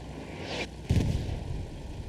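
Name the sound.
artillery explosions in Hell Let Loose video game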